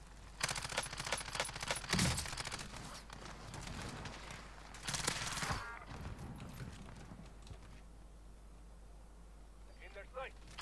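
MP5 submachine gun fire in the Warzone shooter game, with rapid, loud bursts that come in two clusters and fade into quieter game noise between them.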